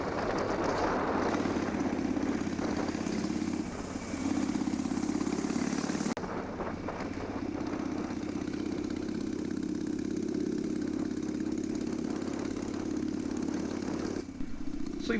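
A motorcycle engine drones steadily while riding along rural B roads near Southwold, a continuous mid-pitched hum with a brief dip and shift partway through, close and loud with no talking.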